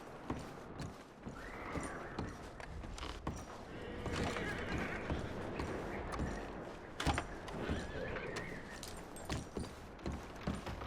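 Horses neigh and whinny repeatedly in Red Dead Redemption 2, with hoof clops and game ambience around them and a voice speaking partway through.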